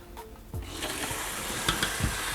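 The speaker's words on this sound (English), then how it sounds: "So get some cold running water." Cold tap water runs steadily over a raw goat leg in a kitchen sink, a continuous splashing rush that starts after a brief pause and carries on close and fairly loud, with faint clatters mixed in.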